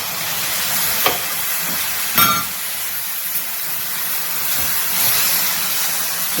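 A broad, steady hiss of steam rises as water is added to a hot pan of amaranth-leaf fry, with a few brief clinks and a sharper burst of sizzling early on.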